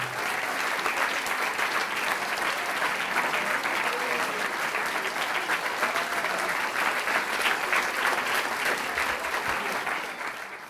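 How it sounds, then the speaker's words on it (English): A school audience claps in sustained, dense applause for a guest at an event, a steady wash of many hands from start to finish that tapers slightly at the end. "Please put your hands together for Derek O'Brien."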